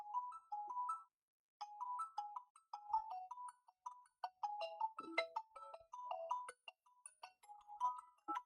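A phone ringtone plays a repeating electronic melody of short chiming notes, fairly faint, with a brief pause after the first phrase before the tune continues steadily.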